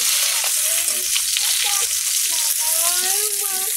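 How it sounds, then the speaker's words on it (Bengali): Puti fish frying in hot oil until reddened, giving a steady close sizzle and crackle throughout, with faint tonal sounds drifting over the hiss. "মাছগুলো লাল করে ভাজে নিয়েছি"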